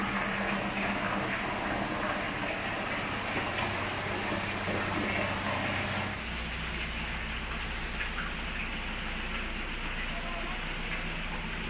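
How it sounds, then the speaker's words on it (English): Water leaks through the gates of a deep canal lock between Acton Trussell and Tixall Wide, a steady rushing hiss that shifts to a lower, heavier wash midway, continuous and close. "Quite a bit of water leaking out, though."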